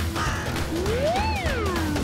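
A huge cartoon bird of prey lets out a single swooping, rising-then-falling caw over a busy fight soundtrack, brief and fairly clear.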